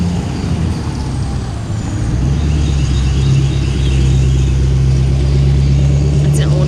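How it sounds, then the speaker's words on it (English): A fifth wheel trailer rolls past on the road, a steady low engine rumble and tire drone holding close and loud throughout with no talk. "here's another fifth wheel coming down the line"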